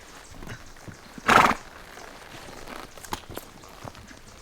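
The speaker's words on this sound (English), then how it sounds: "So the horses are coming" Horses approach on a mountain trail in Mexico, one giving a loud sharp neigh early on, followed by scattered hoof clops and footsteps at close to middle distance, with no talking.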